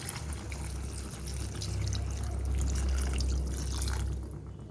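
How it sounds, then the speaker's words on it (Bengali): Water pours steadily into a pan of potatoes and lentil curry, making a continuous close splashing rush that lasts several seconds. "এবারে আমি ঢেলে দেবো জল।"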